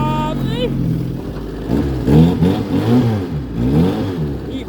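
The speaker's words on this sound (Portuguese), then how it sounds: "já tá patinando na grama seca já" A Fiat 147 pickup revs hard as its wheel spins on dry grass; the engine drone runs steadily throughout, with people talking over it for much of the time.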